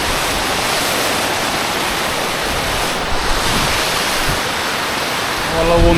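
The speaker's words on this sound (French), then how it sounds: "Voilà où on en est, pleine cascade." A Pyrenees waterfall roars as a steady, loud, dense rush of water, heard up close with some wind buffeting the microphone.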